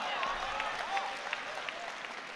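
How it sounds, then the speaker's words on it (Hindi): Audience applause at a grand mushaira, an Urdu poetry gathering in Indore: a steady wash of clapping from a large crowd, fairly distant, with a few faint whistles and no voices on top. "एक बार आपके लिए तालियां हो जाएं"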